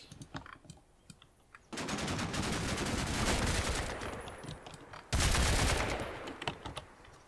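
Soldiers in a combat video game fire their weapons. A few sparse shots come first, then a long, dense burst of rapid automatic fire, a short lull, and another loud fusillade.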